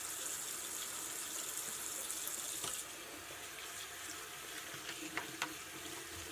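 Tap water runs steadily into a sink while makeup brushes are rinsed under it, a close hissing splash that shifts slightly partway through, with a few small knocks near the end.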